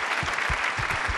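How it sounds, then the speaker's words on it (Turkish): An audience in a television music show studio claps for themselves, a short burst of brisk, dense applause with a few low thumps punctuating it, steady and close. "Kendinizi alkışlar mısınız?"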